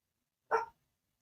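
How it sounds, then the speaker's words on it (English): A single short bark or yip from a household dog, brief and fairly clear against an otherwise silent background. "Oh, it's the dogs."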